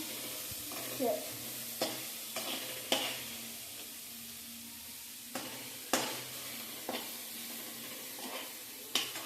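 Carrots sautéing in a pan for a spicy pasta, a soft steady sizzle broken by repeated scraping stir strokes at uneven intervals, close and fairly quiet.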